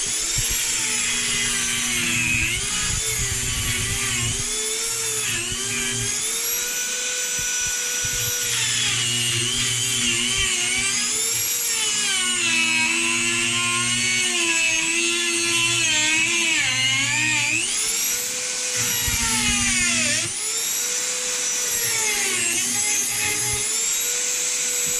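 A Dremel 4000 rotary tool with a cutting wheel slices through plumbing shut-off valves behind a bathroom vanity, making a high, whining buzz whose pitch dips and climbs as it bites into the metal, in repeated stretches over a long run.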